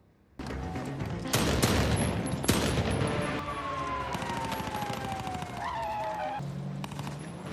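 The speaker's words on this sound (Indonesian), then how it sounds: "Pertarungan adu tembak pun terjadi di antara mereka." Gunfire in a movie shootout, dense bursts of rapid shots cracking loudly near the start, then a siren-like wailing tone and continued action noise over several seconds.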